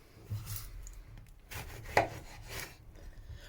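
Sharp knife chopping fruit and vegetables such as apple, onion and orange on a wooden board, a few soft, uneven cuts and scrapes with one sharper knock near the middle, quiet and close.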